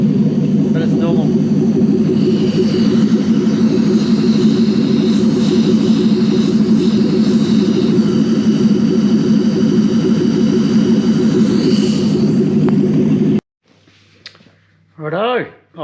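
Jetboat engine fitted with a New Zealand-made ECS engine management system and wiring loom, idling in a loud, steady, close drone for about thirteen seconds before cutting off, followed by brief quiet handling noise.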